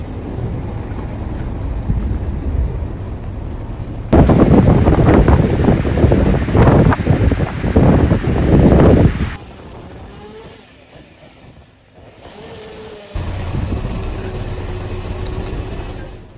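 Strong bomb-cyclone winds batter the British Columbia coast, a loud, roaring rumble buffeting the microphone in heavy gusts, easing to a quieter hiss before surging again.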